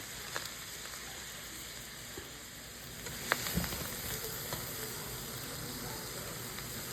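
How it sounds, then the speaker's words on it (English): Vegetables and ground beef sauté together in a pot over medium heat for spaghetti sauce. A faint, steady sizzle and hiss runs throughout, with a few soft stirring clicks near the middle. "I just let these saute a little bit"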